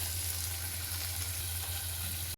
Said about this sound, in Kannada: ನೋಡಿ, ಜಸ್ಟ್ ಈ ರೀತಿ ಫ್ರೈ ಮಾಡ್ಕೊಬೇಕು.